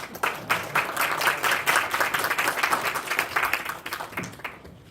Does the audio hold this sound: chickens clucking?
no